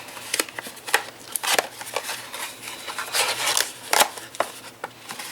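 Scissors snip off a small stray piece of paper from a fold-flat gift or treat bag, giving a string of crisp, close cuts with brief gaps between them.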